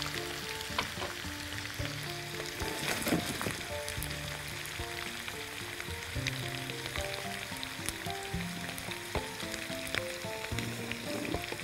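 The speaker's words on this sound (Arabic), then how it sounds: "البصلة بالذات بحبها تتحمر كده علشان تطلع نكهتها كده وتبقى لذيذة" Chopped onion sizzles and fries steadily in a hot pan, a continuous crackling hiss with small popping bursts throughout, close and fairly loud with no talking.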